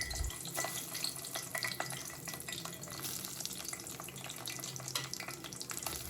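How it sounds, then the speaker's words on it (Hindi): Chicken fingers fry in hot oil, a dense continuous crackle and bubbling sizzle with scattered sharp pops, steady throughout and close by, with no talking. "तो ये फिंगर्स मैंने डाल दी हैं ऑयल में फ्राई होने के लिए।"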